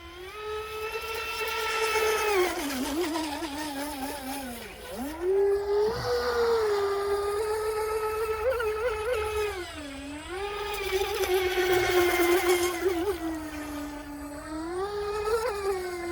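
Recoil 17 and Blackjack 42 RC boats at full throttle, their electric motors whining steadily with pitch swooping up and down through turns, loud and close with no talk.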